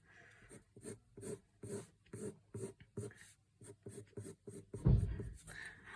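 Pencil strokes shading hair on paper during a realistic portrait drawing, a steady series of short rhythmic scratching strokes, close and clear, with one heavier rubbing burst near the end.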